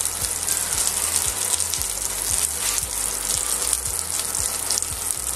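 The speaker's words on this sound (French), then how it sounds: "on attend que le beurre devienne noisette" Butter browning in a pan, a loud continuous sizzle and crackle close up, with faint rhythmic low thumps running beneath it.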